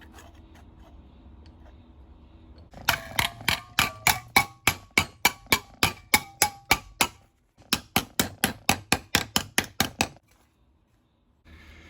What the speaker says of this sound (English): get all these bends put into it here with a body hammer and a bench vise